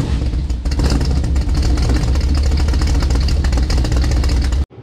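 A 1972 Dodge Dart Swinger engine starts up and revs loudly and steadily for several seconds at close range, then cuts off abruptly at the end.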